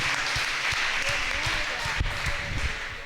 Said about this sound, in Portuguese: Você pode dar uma salva de palmas para o Senhor?